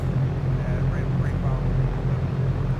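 A Cessna 172 piston engine idling steadily while taxiing in the X-Plane 11 flight simulator, a constant low drone with a faint hum, with a voice talking over it.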